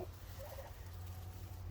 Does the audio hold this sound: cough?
no